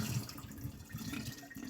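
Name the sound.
water poured off sprouting seeds through screen lid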